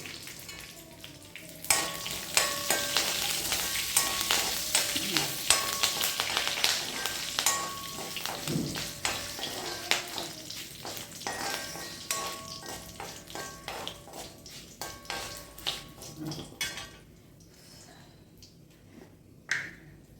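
Curry leaves hit hot oil in a pan with a steady, close crackling sizzle and scraping stirs, the frying settling and thinning toward the end; no one speaks.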